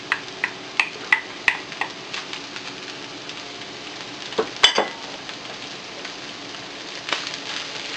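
Chopped boiled pig's heart sautés in a pan for spicy bopis, giving a steady soft sizzle with a run of sharp clacks and scraping stir sounds near the start and scattered clatters later.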